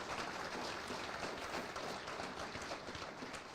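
Audience applause at a Mobile River Bridge and Bayway project grant celebration in Alabama, a steady wash of clapping at moderate distance that holds evenly throughout without talk.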